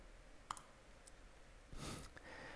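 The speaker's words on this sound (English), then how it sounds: "I'm gonna click here on request." A single faint computer mouse click sounds near the start in a quiet room, followed by a soft rustle or breath, with low background hiss.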